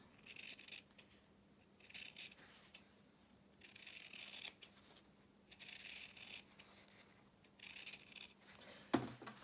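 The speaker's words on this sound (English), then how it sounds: "what I'm going to do now is trim it off with my scissors" Quiet scissors snip and slice through a sewn fabric seam allowance in short repeated bursts with pauses between, ending with a small sharp clack.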